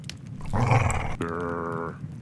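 A dog gives a close, loud, low growl in two sustained, rumbling phrases, the second steadier and more tonal, with no speech over it.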